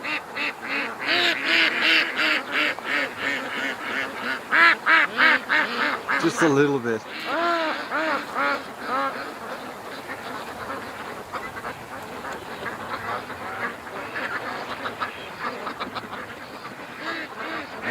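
Ducks quacking loudly near a lake as they leave the water, rapid repeated calls in bursts, then fading to scattered quieter quacks, with a person talking over them at times.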